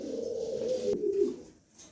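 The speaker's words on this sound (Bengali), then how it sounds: "দেখেন কবুতর দুইটা আমি একটু লং টাইম নিয়ে দেখাই দিলাম" A pair of pigeons give a steady, low rolling coo, close and continuous, fading out toward the end.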